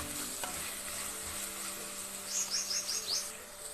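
Green chilies fry in a pan for cauliflower masala, giving a steady close sizzle under occasional scraping stirs, with faint high chirps near the end.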